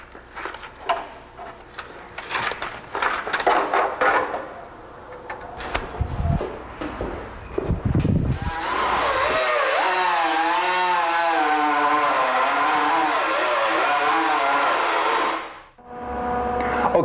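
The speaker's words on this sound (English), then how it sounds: "Jerry, so now the floor pan is cut, it fits perfectly, you've ground off the edges using a grinder" An angle grinder cuts and grinds the metal floor pan of a 1968 California Special Mustang, first with irregular scraping bursts and then a steady, loud, high whine that runs for several seconds before stopping.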